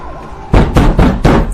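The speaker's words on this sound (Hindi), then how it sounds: "अरे यो हमारा दरवाजा इतनी जोर से कौन पीट रहा है?" Loud knocking on a door: four heavy bangs in quick succession, close and forceful, with a faint siren lingering underneath.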